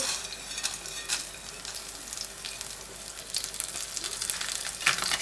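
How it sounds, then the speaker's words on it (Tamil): Urad dal, black pepper, dried chillies and asafoetida fry in oil in a pan over a slow flame, making a steady, close crackling sizzle with occasional sharper pops. "வத்தல் பெருங்காயத்தூள் எல்லாம் போட்டு நல்லா ஃப்ரை பண்ணணும் ஸ்லோ ஃப்ளேம்லேயே வச்சுட்டு பண்ணுங்கள்"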